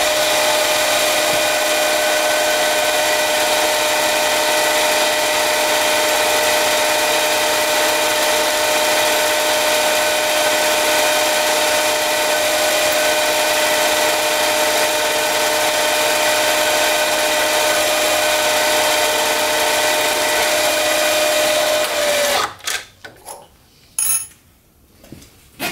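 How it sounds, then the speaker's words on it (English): Power drill boring a hole in a metal workpiece while a pinion-to-rack gear part is machined, a loud steady whine holding for over twenty seconds before cutting out into a few brief clanks. "we're going to do this first hole, and we're going to drill it, and then we're going to tap it"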